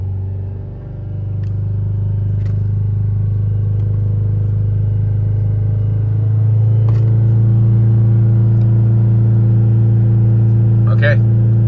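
A 1.9 diesel Renault Trafic / Vauxhall Vivaro / Nissan Primastar van with a no-power fault, engine held at around 3000 RPM with the clutch pressed; a loud, steady close-up drone that shifts pitch slightly partway through, with a few faint clicks.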